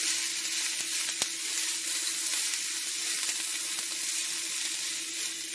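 Shiitake mushrooms, cabbage and carrots frying in a pan, giving a steady, even sizzle close by with a brief tick partway through, and no voices.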